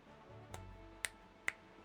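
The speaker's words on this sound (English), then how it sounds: "finger snaps" Three sharp, dry finger snaps sound close and alone, the first softer and the last two crisp and evenly spaced.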